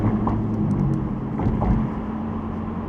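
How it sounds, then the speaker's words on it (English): Audi R8 V10 cruising in comfort mode gives a subdued, even low engine drone with road rumble from inside the cabin, steady and fairly quiet with no voices. "throwing this into regular drive and into comfort mode. And it drives like a normal car."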